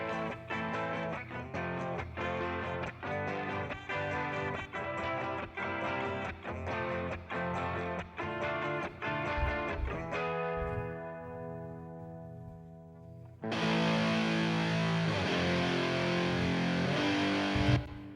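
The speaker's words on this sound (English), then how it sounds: "the clean guitars sound like this" Clean electric guitars reamped through Fender Princeton and Bassman amp sims, strummed chords in a steady rhythm, then a ringing sustained passage before a brighter, denser section takes over.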